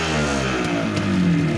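A motorcycle with aftermarket exhaust pipes and a Floyd Racing-built engine runs close by, a steady loud idle that swells into a rising rev near the end.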